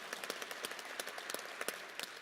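A faint crowd claps steadily for university officials and community leaders at a football coach introduction, a dense scatter of hand claps heard from a distance.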